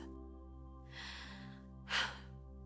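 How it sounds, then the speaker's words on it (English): A deep, steadying breath drawn in slowly and then let out in a short, sharp gust, close and clear over a low steady hum, with no talking. "I take a deep, steadying breath."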